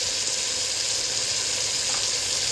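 Turmeric and crushed black pepper frying in a pot for black chana curry, heard as a steady, dense hiss of sizzling oil, close and unbroken throughout.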